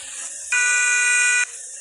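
A car horn in a Sri Lankan driving simulator video game sounds once as a single steady, buzzy blast of about one second, clear over a quiet background hum.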